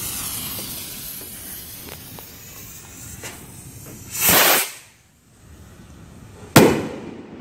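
A small mini firework rocket launches with a sharp rising whoosh and hiss that fades, followed seconds later by a single sharp crack from its burst, outdoors, close and loud.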